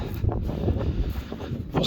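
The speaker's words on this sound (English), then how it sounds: "I apologize about the wind." Steady low rumbling wind buffets the microphone throughout, with gusts swelling and easing, no other sounds standing out.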